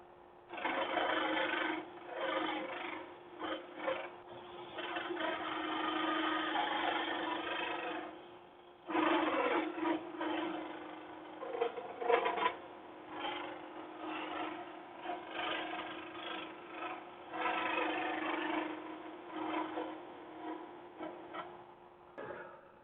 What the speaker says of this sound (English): It's easier to take it out with a scraper than it is try to sand it out.